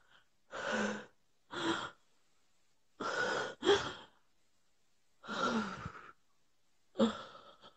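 Person breathing deeply, taking six separate audible breaths, some paired in quick succession, each a soft, close, breathy rush with pauses of quiet between them.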